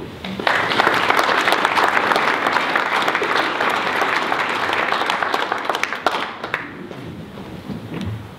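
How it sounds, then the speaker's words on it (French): Audience applause at a town New Year's wishes ceremony, loud dense clapping from a large crowd that holds steady for several seconds, then thins out toward the end. "Bravo et merci, on peut l'applaudir."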